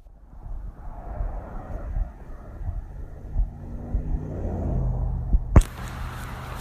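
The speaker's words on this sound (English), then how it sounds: "here we got a car coming by" A car passes on an outdoor road, a gradually swelling rumble and wash of tire noise that builds over several seconds, followed by a sudden sharp clatter and bursts of wind buffeting the microphone.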